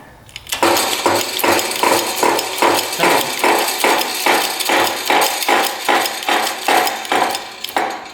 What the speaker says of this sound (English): let's see if this will press out the crank here